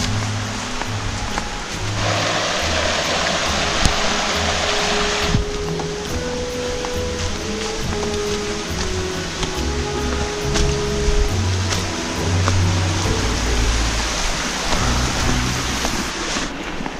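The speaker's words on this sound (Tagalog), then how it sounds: "Pero mabababaw lang yung ilog dito" A shallow river flows steadily past, a continuous broadband rush of water with a louder stretch early on and a few low engine-like hums mixed in.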